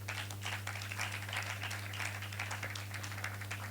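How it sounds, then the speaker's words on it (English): Audience applause at an event, a steady wash of many hands clapping throughout over a constant low electrical hum. "they all deserve a fantastic round of applause"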